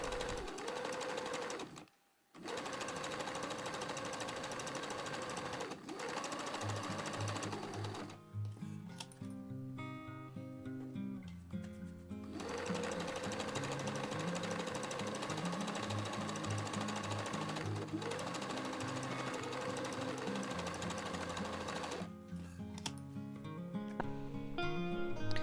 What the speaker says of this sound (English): And a second row of gathering stitches a couple of millimeters below the first.